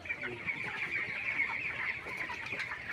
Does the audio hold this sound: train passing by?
no